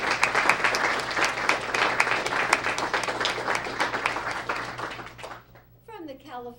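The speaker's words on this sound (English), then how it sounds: "Let's give them a great round of applause." An audience applauds a student of the month and family at a recognition ceremony, sustained many-handed clapping that fades out near the end as a voice begins speaking.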